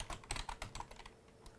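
Quick bursts of keystrokes on a computer keyboard while entering a file name prefix in slide-scanning software, a short close run of taps that thins out toward the end.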